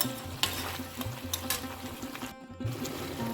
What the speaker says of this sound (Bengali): শিম আর ফুলকপিটা এর মধ্যে যোগ করে দেব